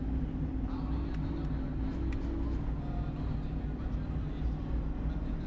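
Car engines in the racing video game Gran Turismo 7 hum in a steady, sustained drone at an even level with no pauses.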